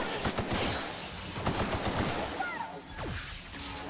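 Rapid bursts of gunfire from an upgraded gun in The Outer Worlds, sharp repeated shots at moderate distance amid fighting robots and busy game noise, with a few chirping electronic whistles.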